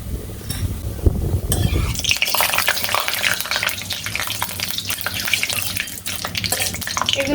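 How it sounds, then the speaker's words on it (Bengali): Bay leaf, cinnamon, cardamom, cloves and black peppercorns hit hot oil for chicken biryani, setting off a loud, steady sizzle and crackle that carries on without a break. "তেলটা গরম হয়ে গিয়েছে, দিয়ে দেব তেজপাতা। দিয়ে দেব গোটা গরম মশলা"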